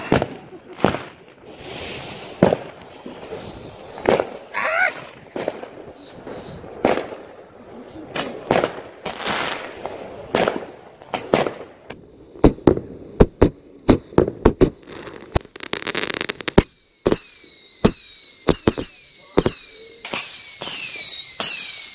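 New Year fireworks go off outdoors: scattered loud bangs and pops at first, then rapid crackling bursts with whistling trails toward the end, while faint voices murmur in the background.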